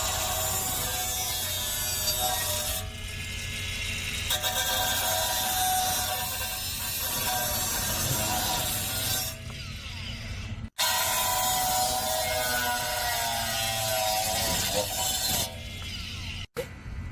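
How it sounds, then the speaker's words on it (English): An angle grinder cuts away the top and bottom edges of the brake dust shield on a third-generation Toyota 4Runner during a Tundra brake upgrade, a steady close grinding rasp with short pauses and a sudden cutoff near the end. "so just grind off the ends, as you can see, the edge on the top and the edge on the bottom"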